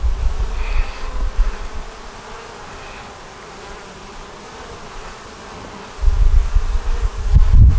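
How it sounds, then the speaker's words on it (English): A nuc hive's honeybees buzz in a steady swarm-like hum, with louder, closer passes at the start and again near the end as bees fly around the opened box. "See all these bees flying around here?"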